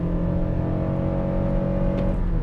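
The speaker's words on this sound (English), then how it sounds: "The engine sounds so small and struggling, but because it has a motor next to it, it's not bad." A 2023 Toyota Sienna hybrid's engine accelerates at full throttle, a loud, steady droning hum that strains evenly without breaks, on a road with truck traffic nearby.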